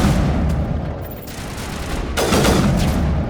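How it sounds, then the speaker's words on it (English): Burst sniper rifle fire in the video game Mass Effect, loud close gunshots and booming impacts in quick succession amid battle noise, with a heavy blast near the end. "Did my weapon shoot 2 bullets? Oh, it's a burst sniper."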